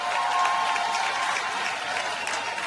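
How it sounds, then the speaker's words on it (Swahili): Steady applause from a crowd of people honouring the best workers at a staff awards ceremony, dense continuous clapping that holds at an even level for a few seconds, with no clear ululation standing out. "Makofi na vigelegele kwa wafanyakazi bora"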